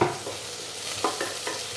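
Garlic, ginger, green chilli and onion frying in oil as the base for a beef or mutton stew, a close, steady sizzle with several distinct stirring scrapes and clicks of a spoon against the pan.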